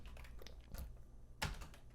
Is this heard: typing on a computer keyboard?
yes